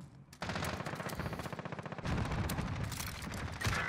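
Sustained automatic gunfire in a Warzone match hits the player, a steady, fast rattle of shots running for several seconds with scattered impacts and game noise layered over it.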